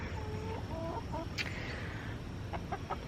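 Chickens cluck in a backyard coop being cleaned for mites, a few short clucks and one sharper squawk rising over a steady, noisy background hum.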